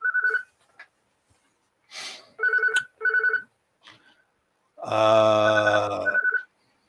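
A telephone rings in short electronic bursts, a few rings spaced apart. A louder, rich tonal sound follows, likely an answer-phone message starting, with quiet gaps and faint breathing between.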